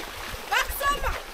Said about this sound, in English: The water splashed on me.